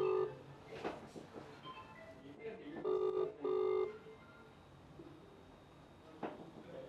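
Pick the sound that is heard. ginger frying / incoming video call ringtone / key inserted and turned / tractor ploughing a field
incoming video call ringtone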